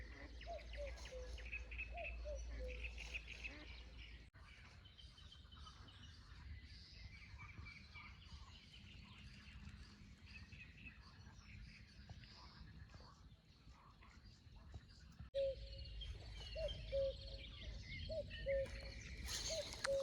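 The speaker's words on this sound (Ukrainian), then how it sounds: "Пташки співають." Faint birdsong chirps sporadically in the distance over a soft outdoor hush at a fishing spot under a clear sky, with brief quiet murmurs here and there.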